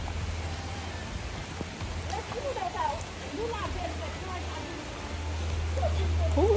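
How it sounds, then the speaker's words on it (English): Rain falling outdoors in St. Lucia, a soft continuous hiss that thickens toward the end, heard beneath someone speaking. "it's really raining on here"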